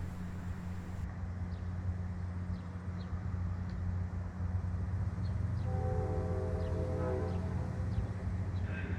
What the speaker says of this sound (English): the dinner train once again reverses directions onto the Falmouth line to clear up for the CapeFLYER